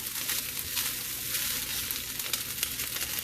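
Chicken fried rice ingredients sizzle and crackle steadily in a hot pan while being stirred, a loud, continuous frying hiss with small irregular pops and scrapes.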